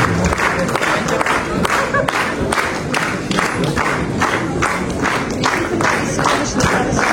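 Dense crowd applause and cheering fill the whole stretch at a film premiere for the Ethiopian movie Kebad Mafiya, with steady rapid clapping and shouts staying loud and close throughout.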